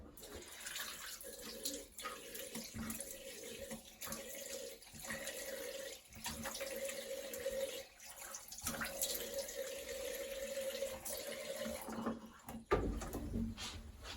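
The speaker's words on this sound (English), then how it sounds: "I just rinse this off with some more water." Tap water runs steadily from a bathroom faucet while makeup is rinsed off a face, a continuous close splashing flow with brief breaks and small shifts as hands move under the stream.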